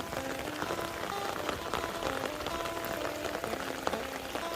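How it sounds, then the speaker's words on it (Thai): Water flowing out of a rice field through a pipe into a pond, a continuous dense splashing and gurgling rush heard close and steady. "นี่นะน้ำไหลนะครับทุกท่านน้ำจากทุ่งนาไหลเข้าไปในสระน้ำนะครับ"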